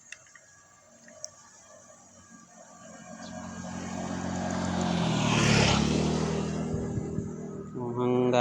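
A DJI Lito X1 drone flies with whirring propellers, climbing and backing away, its buzzing rotor hum swelling to a peak in the middle and then easing off, with a faint voice near the end.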